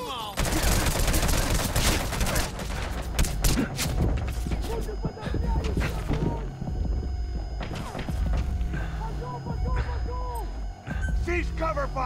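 Dense, sustained gunfire in Metal Gear Solid V: The Phantom Pain, with rapid overlapping bursts and shots hammering continuously and loudly throughout, under a steady low hum.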